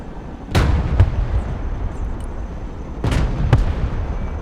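Heavy gun fire in Broken Arrow as a gunner engages a target: two sharp loud booms about two and a half seconds apart, each followed by a quick echo or second report, over a continuous low engine rumble.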